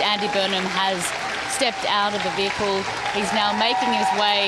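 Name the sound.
crowd clapping as Andy Burnham arrives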